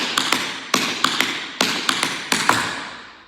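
Tap dancer's shoes striking the floor in flap and ball change steps, crisp metallic taps in quick pairs and triplets with short pauses between groups, close and clear with no talking.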